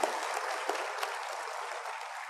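Church congregation clapping together during a Korean Pentecostal worship service, a steady dense wash of applause from many hands held for a couple of seconds, fairly faint and room-filled.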